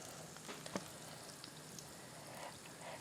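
Cold pumpkin spice donuts fry in hot oil with a faint, steady sizzle. Small pops and crackles scatter across the bubbling, which stays quiet and continuous with no talk.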